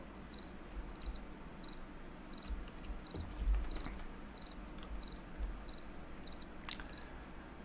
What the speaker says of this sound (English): Yep, crickets.